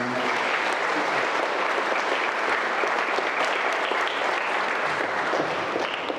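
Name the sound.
audience applause for the brothers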